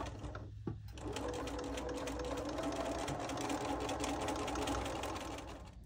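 Sewing machine stitching around the edge of a quilted pillow, a fast, steady close-up whirring hum that starts after a brief pause and runs evenly to the end.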